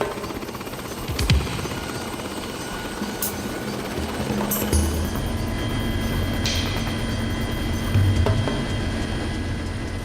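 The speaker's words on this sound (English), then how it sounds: "The Care Flight rescue helicopter was now on their way to the Naiad's location." A rescue helicopter drones steadily overhead, its low rotor thrum continuous with a few brief metallic clanks and a louder swell near the end.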